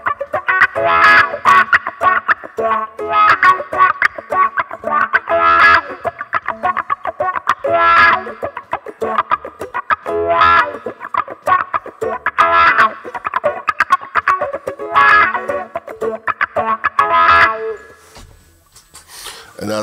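A funk electric guitar played through a wah filter effect, producing choppy, rhythmic strummed chords with a sweeping vocal-like wah tone, loud and close, with no talking.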